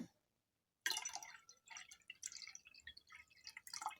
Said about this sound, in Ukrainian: Заливаємо розчин солі.